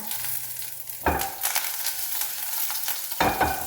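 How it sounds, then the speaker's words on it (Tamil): Curry leaves sizzle and crackle in hot oil that already holds mustard seeds, tempering for drumstick-leaf rasam. A loud, close hiss runs throughout, with sharp bursts when the leaves hit the oil. "இப்போ கருவேப்பிலை போடுறோங்க"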